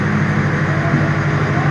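Nilsagar Express (766 down) pulling out of a station, a steady low rumble and hum of the train getting under way, continuous and fairly loud throughout with no talk.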